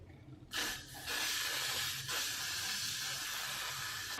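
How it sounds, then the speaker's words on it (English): A sustained aerosol hair spray hisses close to the microphone, starting abruptly, briefly pausing, then continuing steadily to the end. "I'm going to spray some Got To Be Free spray."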